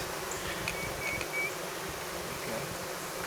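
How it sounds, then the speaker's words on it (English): Honey bee swarm buzzing steadily inside a bee trap, a dense continuous drone with faint higher whines from individual bees, moderately close and with no voices. "Now, this is a good bunch of bees."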